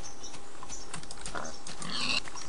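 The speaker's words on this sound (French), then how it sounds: "je parle du cochon que j'ai vu par là-bas" A pig grunts in the Minecraft video game, a few short snorting calls over a low, steady game background with no talking.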